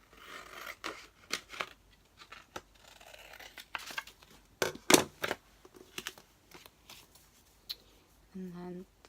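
Scissors cutting around a stenciled paper craft tag, producing close, irregular snips and papery rustles with occasional crinkling, including one louder sharp cut midway.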